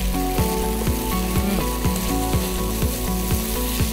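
A hot pan sizzles and fries after a mix of soy sauce, teriyaki, Worcestershire sauce and hoisin goes in. The loud, steady crackle fills the whole stretch, with no voices over it.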